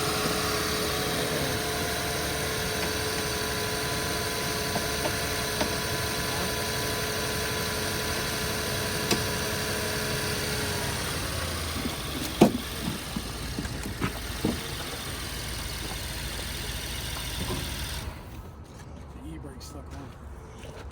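A BMW 7 Series, just jump-started from a jump box, idles with a steady low hum, joined by a few faint clicks and knocks before the sound drops away near the end.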